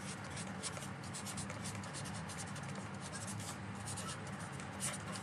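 Pen or pencil writing out an integral calculation for the area under a curve, a steady scratchy stroking that runs throughout, fairly faint and close, with a voice murmuring in places.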